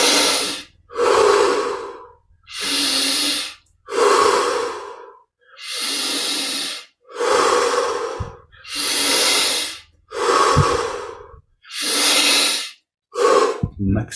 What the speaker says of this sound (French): On augmente l'amplitude de chaque respire.